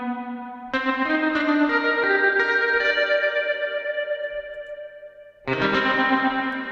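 Electric guitar run through a digital reverb effect: sustained chords ring out in a big, washing reverb tail for several seconds, then a fresh chord is struck near the end, with no talking.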